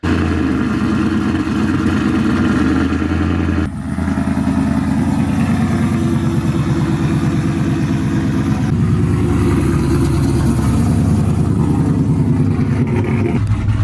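Supercharged GMC Sierra pickup truck engine running steadily and loudly close by, a deep continuous rumble with a brief dip around four seconds before the drone resumes for the rest of the stretch.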